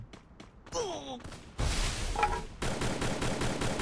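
Gunfire in the Free Fire mobile battle game, with several bursts of rapid automatic shots and booming single reports close and loud alongside game effect sounds.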